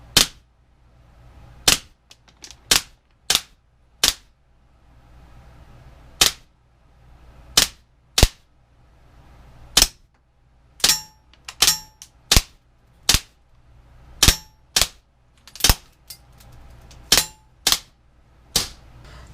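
An Umarex M712 CO2 blowback BB pistol fires at a target: loud, sharp cracks, some single and some in quick short bursts, spread unevenly across the stretch with quiet gaps between and no talking.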